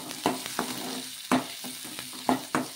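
Onions with cumin and mustard seeds fry in oil while a spoon stirs them, giving a steady sizzle broken by several sharp scraping strokes against the pan at uneven intervals, close and alone with no talk.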